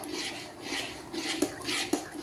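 A spoon scrapes and stirs thick cream in a metal pot as butter separates, soft swishing strokes with two sharper clinks against the side, close and quiet.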